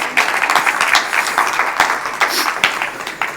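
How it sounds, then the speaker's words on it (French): A church congregation claps together in lively applause, a textured burst of many hands with a few sharper individual claps standing out, lasting a few seconds. "On l'applaudit."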